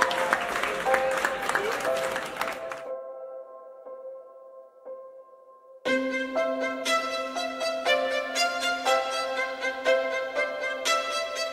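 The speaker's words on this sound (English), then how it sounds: "Give a round of applause." Applause from an audience at a high school football awards evening breaks out, fades to a quiet stretch with a held musical tone, then swells again with loud clapping over bright music.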